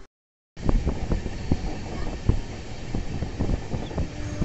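A train running near Mantralayam Road railway station rumbles with a steady low roar, rhythmic wheel clacks and wind buffeting, starting abruptly after a brief silence and staying loud and close.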